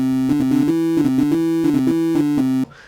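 Sylenth synthesizer playing a sine wave layered with a second part, a smooth sustained melodic line with short stepwise note changes, loud and steady before cutting off abruptly.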